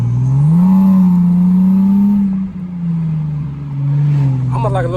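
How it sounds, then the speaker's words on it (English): A car engine, either a Challenger V6 or an IS300 inline six, holds a loud, steady low hum that rises slightly and then eases, heard from inside the car while people talk over it. "We're gonna do like a little rev battle. The inline 6 versus the V6."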